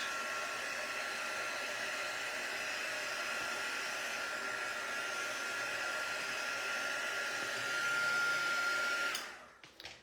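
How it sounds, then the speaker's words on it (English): A heat gun drying paint blows with a steady, loud whooshing roar throughout, then cuts off abruptly near the end with a few small clicks. "I don't know how noisy this heat gun's going to be on here, but let's give it a go."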